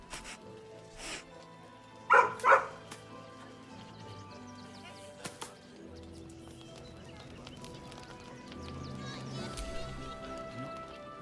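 A dog in the Baldur's Gate 3 video game gives a few short barks and sniffs amid game sounds, with hoof-like clopping and softer ambient noise continuing afterward.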